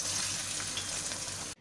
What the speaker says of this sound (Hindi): अब इस स्टेज के ऊपर हम इसमें ऐड कर देंगे अपना ये तड़का